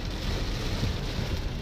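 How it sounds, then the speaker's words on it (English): Heavy rain pouring steadily in Goa by the Mandovi River, a dense, continuous wash of broadband noise with no breaks and no talking. "it's raining very heavily right now"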